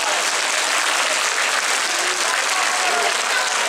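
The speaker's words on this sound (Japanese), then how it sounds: "今一度大きな拍手をお送りください" A large crowd applauds steadily and loudly throughout a Sendai Suzume Odori dance performance at an arena stage at Furusato Matsuri Tokyo 2018, a dense continuous wash of clapping with no pauses.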